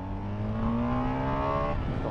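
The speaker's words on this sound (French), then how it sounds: "Je vais faire une grosse accèle, attention." A BMW GS1250 motorcycle accelerating hard, a short burst of rising engine tone that holds strong and steady for about two seconds.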